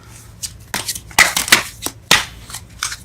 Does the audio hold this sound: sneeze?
no